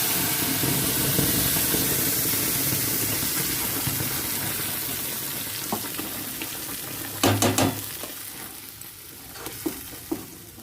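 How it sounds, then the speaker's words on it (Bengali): Ground spice paste hits hot oil and fries with a steady, close sizzle, joined by a few louder bursts of stirring and scraping near the end. "এটাকে অনেকক্ষণ ভাজতে লাগবে বন্ধুরা, কমসে কম 20-25 মিনিট এটাকে ভাজতে লাগবে।"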